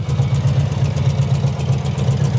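A 1952 Ford Crestline engine idling with a suspected lifter tick and a holed muffler, a steady low rumbling pulse with a faint rapid ticking riding over it, close and continuous.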